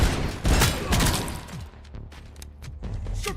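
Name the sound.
gunfire in RoboCop arcade video game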